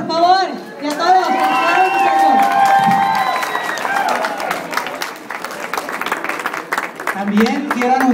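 An audience applauds and cheers for a church youth choir and its composer, Jesús Torres, at a Jóvenes Para Cristo song event, with a dense wash of clapping, shouts and excited voices throughout.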